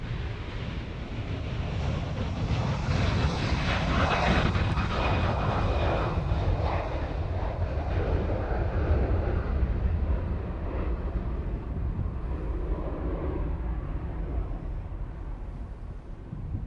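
A Hawaiian Airlines airliner in the old livery moving at Honolulu airport gives a steady, loud jet engine roar that holds for the whole stretch, with some wind buffeting the microphone.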